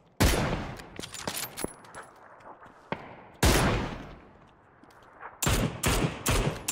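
Gunfire in the online battle royale game PUBG Battlegrounds: several loud bursts of rapid shots with sharp individual cracks between them, close and punchy, separated by short quieter stretches with no talking.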